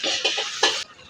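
Manchurian balls with ginger-garlic paste fry in hot oil, giving bright, loud bursts of sizzling and stirring that cut off sharply near the end, close and with no talking.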